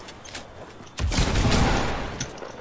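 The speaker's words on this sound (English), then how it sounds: "There's people shooting at us from the back." Rapid gunfire in the game Fortnite, a sudden loud burst of overlapping shots erupting after a quieter stretch of faint clicks, then gradually tailing off as the firing continues.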